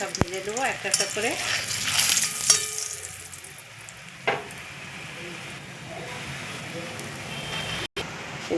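Rolled dough rounds frying one at a time in oil in a wok, a steady sizzle running through with a few stirring clinks and brief louder bursts as pieces go in.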